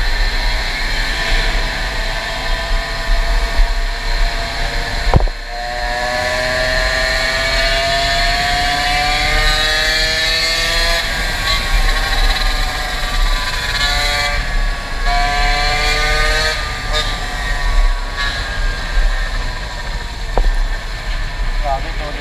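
A vehicle engine drones loudly and continuously while riding, its pitch climbing and settling as the gears change, with wind noise and a voice talking over it.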